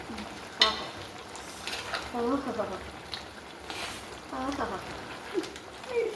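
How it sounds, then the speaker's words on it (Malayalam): Curry being stirred in a pan gives soft scraping and a low sizzle under a person talking, with a couple of sharper knocks of the spoon. "വെറുതെ ഇളക്കി കൊടുക്കാം"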